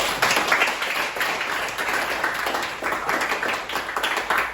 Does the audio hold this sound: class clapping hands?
yes